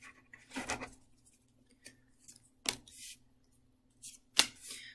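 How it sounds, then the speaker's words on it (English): Quick papery riffles come in a few separate bursts, with quiet gaps and a faint steady hum underneath, like a deck of tarot cards being shuffled close by. "I'm just going to shuffle these once"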